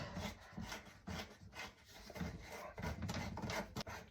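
An old pop-up waste nut is unwound by hand under a sink, with close, rhythmic rubbing and grinding scrapes that come in repeated short strokes, quiet and without talk.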